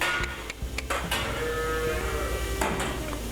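Cows on a farm moving through an open gate, with low mooing and faint shuffling, knocks and clanks heard nearby, no talk over it.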